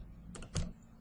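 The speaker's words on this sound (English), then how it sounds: "So I'm going to type in" Someone types a number into a computer keyboard during building site drafting: a handful of quick, close key taps clustered in under a second, ending with a firmer keystroke.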